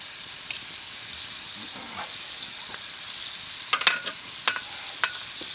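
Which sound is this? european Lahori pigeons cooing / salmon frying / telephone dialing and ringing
salmon frying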